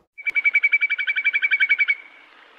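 A whimbrel calling, a rapid, evenly pulsed whistling trill of about fifteen notes lasting nearly two seconds, loud and clear against quiet surroundings before fading out.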